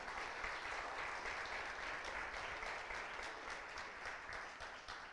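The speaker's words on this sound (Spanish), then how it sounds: "Aplaude a ese Dios infinito." Audience applause filling a church service, steady dense clapping that holds at an even level throughout and fades slightly toward the end, no voices.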